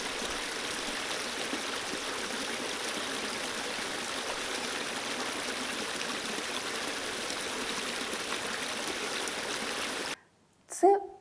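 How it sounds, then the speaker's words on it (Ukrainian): Running water from a rain-fed stream or river gives a steady, even rush of white noise for about ten seconds, then cuts off abruptly, followed by a short silence and a brief sound. "Це потік дощу чи річки."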